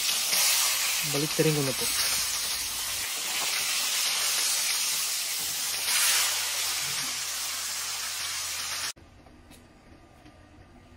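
Tilapia fish frying in hot oil gives a steady loud sizzle and hiss for most of the clip, a brief voice speaking over it, before it cuts to near quiet.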